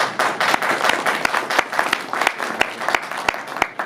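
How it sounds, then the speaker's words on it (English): Applause from attendees at a public meeting in Lakewood, a full, steady round of many hands with crisp nearby claps punctuating the dense patter throughout. "We got the loudest round of applause."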